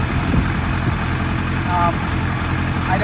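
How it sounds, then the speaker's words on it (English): A 1978 Kawasaki KZ1000A motorcycle engine idles around 1100 RPM in a steady, even low rumble, heard close up with no change in pace. "I got it idling about 1100 RPM"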